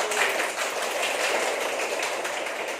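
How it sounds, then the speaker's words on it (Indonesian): A classroom group joins in lively applause for themselves during a Hari Bunda school activity, with steady, dense clapping that holds at an even level throughout. "tepuk tangan yang meriah untuk diri kita sendiri"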